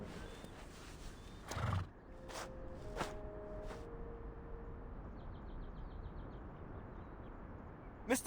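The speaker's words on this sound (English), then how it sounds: "Mr. Charon, is this your horse?" A horse in the video game Reverse 1999 gives a short whinny, followed by a few faint clip-clop steps and distant bird chirps, all set against a quiet outdoor ambience.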